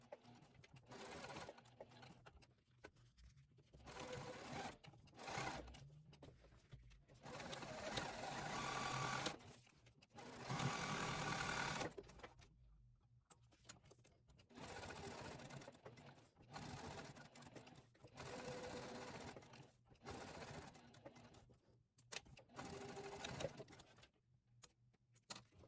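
A sewing machine fitted with a size 18 needle runs Tech 70 thread along the edges of a wallet's cash and card slots, stitching in steady close bursts with short pauses between runs.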